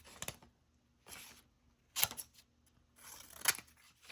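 Scissors snipping scrap paper into strips, a few distinct crisp cuts spaced about a second apart, close and fairly quiet with near silence between them.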